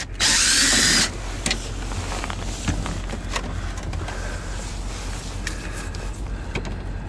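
A DeWalt power drill drives a screw while cab air filters are swapped on a Kenworth T680 truck: one loud, close whir of under a second near the start, then a quiet background.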